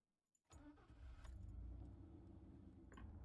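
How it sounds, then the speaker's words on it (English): A car in the video game Tiny Bunny, driving toward a house: an engine catches with a short clatter and settles into a steady, low, muffled rumble that holds quietly throughout. "The car sped toward the house."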